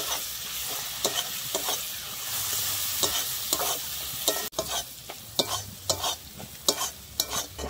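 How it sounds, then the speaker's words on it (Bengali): Garlic paste fries in a pan with a steady loud sizzle, punctuated by regular sharp scraping strokes of stirring that grow more distinct after a brief dip midway, no speech. "আমি রসুনটা কিন্তু ভালোভাবে ভেজে নেব যাতে রসুনের কাঁচা গন্ধটা চলে যায়।"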